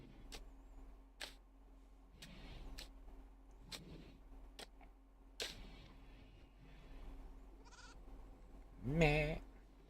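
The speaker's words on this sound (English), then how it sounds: "Goat sounds." Goat bleating in the video game Rimworld, a short, faint bleat near the end after a series of sharp clicks and quiet background sounds; no talking.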